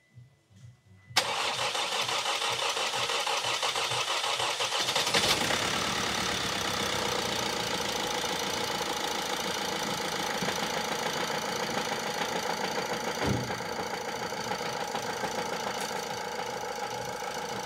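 A Vauxhall Insignia 1.6 CDTI diesel engine with a timing chain job underway cranks briefly, then catches and settles into a steady, loud, slightly lumpy idle close by, running on alone without talk.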